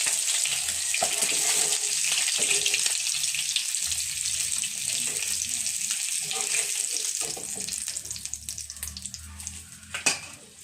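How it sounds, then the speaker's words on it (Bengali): Pieces of katla fish fry in hot oil in a pan, giving a continuous close sizzle with occasional clatter as pieces are added and turned. "বাকি যে কটা মাছ ছিল আবার দিয়ে দিচ্ছি, এগুলিও ভেজে নেব।"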